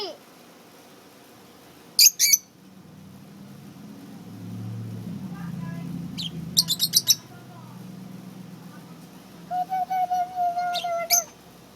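Pet lovebirds chirping in a cage indoors: short bright bursts of sharp tweets in three clusters, with a steadier whistled call near the end, over a low background hum.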